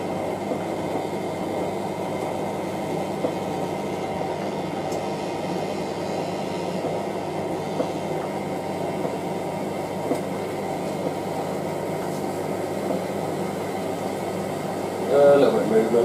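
Hotpoint 9530W Electronic 1000 Plus washing machine on an intermediate spin with a load of towels, a smooth steady low hum and whir held level throughout, with a brief louder bump near the end.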